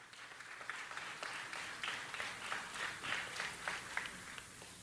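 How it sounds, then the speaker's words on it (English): An audience at a city council meeting applauding a former councilman, a steady round of many hands clapping that fills the room for about five seconds and gradually thins, with no speech over it. "Can we give him a round of applause?"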